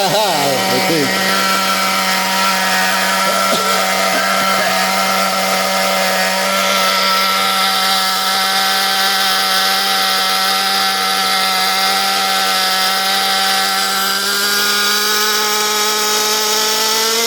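A NOVA B5R experimental engine runs at a high idle on its first start, holding a loud, steady buzzing drone whose pitch creeps slightly upward after an initial rev.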